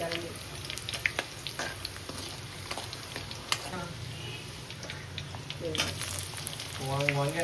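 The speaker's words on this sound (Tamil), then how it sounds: "வெங்காயம் வதக்கிறோம்." Onions sauté in a pan for egg fried rice, a steady sizzling hiss broken by sharp ladle scrapes and clicks, close and moderately loud, with a faint voice surfacing near the end.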